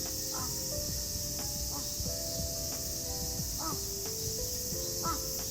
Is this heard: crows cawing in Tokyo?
yes